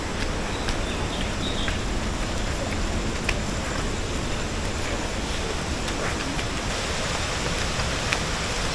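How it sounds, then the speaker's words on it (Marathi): Water rushes and roars continuously at an even level, a steady broadband wash like a nearby waterfall, with no other clear sounds. "आता जो वाहणारा धबधबा आहे त्याचा आवाज देखील आपल्याला यायला लागलेला आहे"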